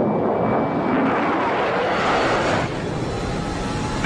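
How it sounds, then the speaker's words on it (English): Loud, steady roar of a fighter jet engine during takeoff at Nellis during a Red Flag exercise, a broad sustained rumble and hiss filling the whole clip without letting up. "Vance on Nellies Tower, you're cleared for takeoff."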